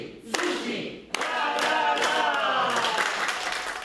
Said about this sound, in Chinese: 墨西哥本土志工一起欢呼，表达到台北慈济医院的欢喜。